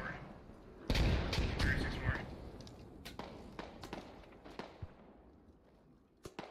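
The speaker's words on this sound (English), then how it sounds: "There goes another grenade." A grenade blast in a tactical military shooter, a loud booming burst that rolls on for about a second, followed by scattered distant gunshots and thuds, with talk heard over the action.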